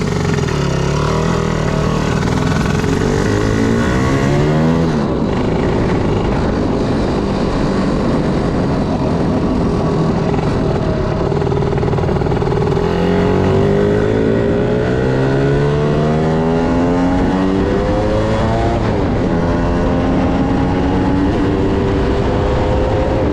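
A 1960 Lambretta Series 2 Li125 scooter ridden round the block, its small two-stroke engine buzzing loudly and close, revving up through the gears in rising sweeps and easing off between them.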